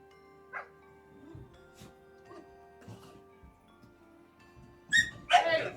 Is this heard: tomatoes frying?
no